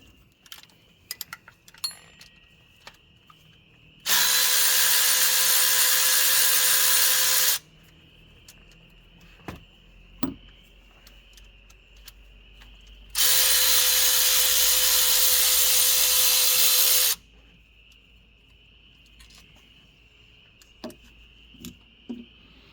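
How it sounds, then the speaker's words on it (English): Two loud, steady bursts of about four seconds each from a power tool removing water pump bolts on a Jeep Grand Cherokee, with light clinks and a faint background hum between them. "Now it's ready to remove the bolts."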